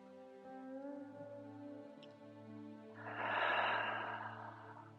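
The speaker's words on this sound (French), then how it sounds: "Encore inspirez naturellement en gonflant le ventre. Expirez, laissez partir." During a gentle yoga relaxation session, a long audible exhale follows a softer inhale, breathy and airy, rising to a fuller rush of air near the end over a faint musical drone.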